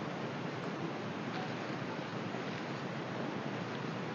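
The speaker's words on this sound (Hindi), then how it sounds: "हमको दूसरा धार मिल गया है, ये यही से ऐसे ही बह रहा है ये भी।" Water pumped by a 7.5 HP pump flows across a field in a steady, broadband rushing wash. It sounds close and constant and stays unbroken, with no voices over it.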